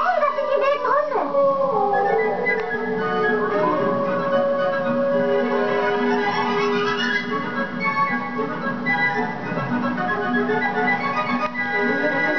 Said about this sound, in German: Hey, das sind die wilden Hunde.